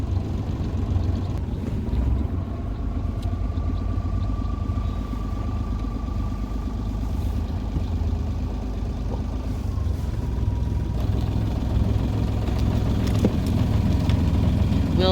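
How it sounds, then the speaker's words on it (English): Steady low engine rumble of a Beneteau sailboat's engine idling while warming up, continuous and fairly close, with faint wind noise over it and no talking. "I'm just letting the engine warm up."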